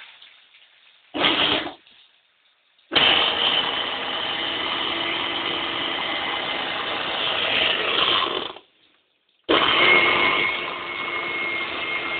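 An electric mixer grinder whirs loudly while grinding ginger, starting with a short burst, then running steadily for several seconds, stopping, and starting up again.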